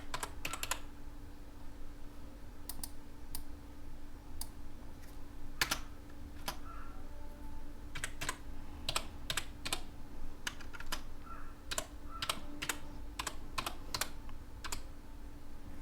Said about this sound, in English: I'm going to type your packaging name.